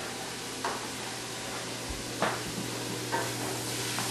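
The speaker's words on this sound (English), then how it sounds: "So now our carrots and our onions and celery have sauteed nicely together, and our garlic's in here as well." Carrots, onions, celery and garlic sauté on a stovetop, giving a quiet steady sizzle broken by a few spoon knocks and stirring scrapes against the pan.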